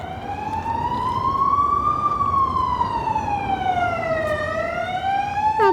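A wailing Belgian police siren in Bruges rises and falls in long sweeping tones, loud and steady over traffic rumble, with no talking.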